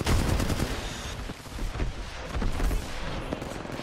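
Rapid pistol fire from the Wingman in the battle-royale game Apex Legends, a dense run of loud, punchy shots with booming low end filling the whole moment, no voice over it.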